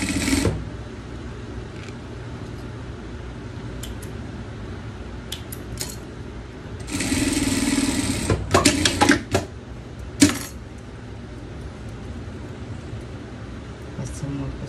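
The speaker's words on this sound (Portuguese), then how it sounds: "passamos uma costura no nosso filete da guia" A home sewing machine stitches a seam along the trim strip of a pet dress, running in a few short whirring bursts with quiet pauses and small clicks between them.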